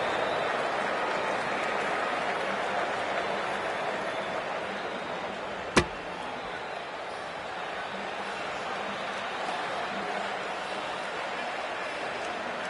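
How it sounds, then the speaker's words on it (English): Crowd at a cricket stadium in Lucknow during an India vs Pakistan match, a steady broad roar and buzz from the stands with one sharp crack partway through. "There's a buzz, a real buzz coming from the stands."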